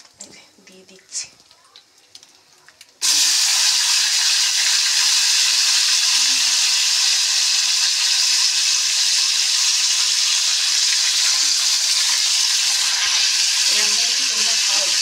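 Green chillies and potatoes hit hot mustard oil in a wok with a sudden loud burst of sizzling that settles into a steady, close, continuous frying hiss, after brief quieter sounds at the start.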